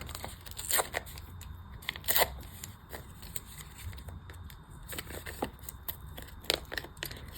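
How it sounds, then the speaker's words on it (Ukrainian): A small paper surprise packet holding a Disney cartoon sticker is torn and rustled open by hand, sharp crinkly rips in uneven bursts, close and fairly loud, with no talking. "Відкриваємо цей пакетик."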